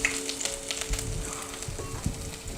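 Thin strips of ginger fry in hot oil in a pan for Gobi Manchurian, a continuous close sizzle with light crackles and faint stirring clinks; no talking.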